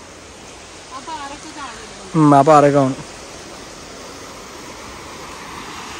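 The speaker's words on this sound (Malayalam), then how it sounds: "നല്ല കലങ്ങിയ വെള്ളം വന്നിക്കണേ" Muddy, rain-swollen stream water rushes past in a steady broadband roar, close and constant, while a voice speaks briefly over it.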